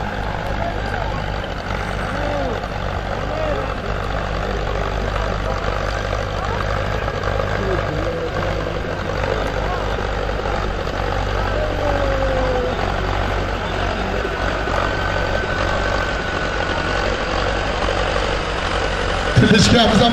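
A tractor engine runs continuously at a steady low rumble, loud and close, with faint voices and crowd noise around it and a brief clatter near the end.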